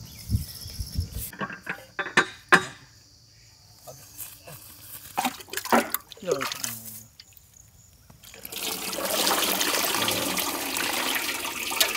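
Water poured over curdled milk while straining homemade paneer outdoors in a village, a steady rushing pour in the last few seconds after scattered handling clatter and quiet talk.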